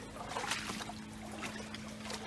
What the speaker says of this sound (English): where the water's coming out of the lake